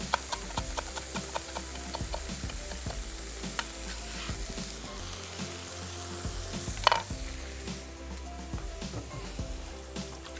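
Food frying in a pan as added water cooks off, with steady soft sizzling, scattered crackles and clicks of stirring, and one sharper clatter midway, fairly quiet and close with no talking.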